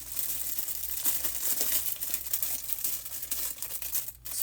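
A plastic bag for yarn is peeled and folded, with close, continuous crinkling and rustling in irregular bursts and a sharp crackle near the end.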